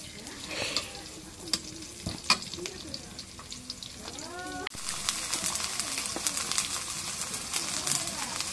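Chital fish with onion and chilli starts frying when oil goes in: scattered clinks and rustles give way to a sudden, steady loud sizzle that continues close by to the end.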